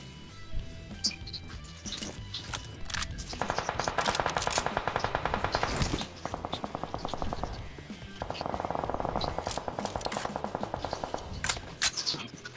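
Automatic gunfire in a PUBG Mobile match, in several long rapid bursts interrupted by single sharp shots, fairly close and sharp, with players' voices chattering at times.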